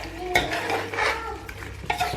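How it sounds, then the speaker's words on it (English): Lamb cooking in a pot, stirred with a utensil that scrapes and knocks against the metal in several strokes over a low, steady sizzle. "The lamb is cooking beautifully."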